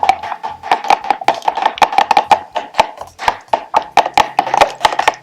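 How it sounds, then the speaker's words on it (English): Ingredients seasoned with black pepper and salt being mixed in a bowl, a fast even run of close, sharp clicking taps and scrapes of a utensil against the bowl, with no voices. "I'll mix to combine."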